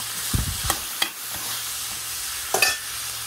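Coconut milk going into a hot pan of laing, a steady sizzle and frying hiss with a few stirring clunks and scrapes, close by and with no voices.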